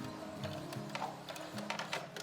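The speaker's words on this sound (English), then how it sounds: "Back stitch again" A sewing machine back-stitching fabric for a homemade face mask, a steady close mechanical whir with rapid rhythmic needle ticking throughout and no talking.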